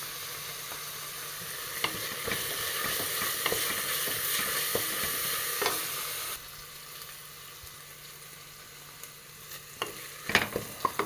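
Green chillies with crushed ginger and garlic frying in a pan, a loud continuous sizzle with intermittent utensil taps, then the sizzle drops noticeably quieter partway through before a few louder clinks near the end.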